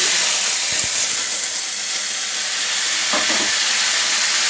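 Grated tomato tipped into hot oil with a tempering of dried red chillies and nigella seeds, giving a steady loud sizzle and hiss with a few stirring scrapes, a louder burst near the end.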